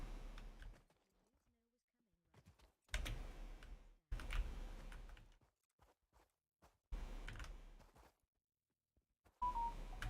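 Short electronic beeps and tones from a mobile phone, several bursts spread across the clip, loud and close, with a person talking around them during a Satisfactory gaming session.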